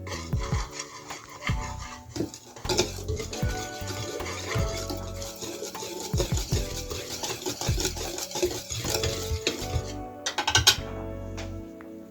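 A spoon scrapes and knocks around a bowl, stirring a thick gingerbread batter with spices and cocoa in an irregular rhythm of rubbing strokes and light clinks, close up.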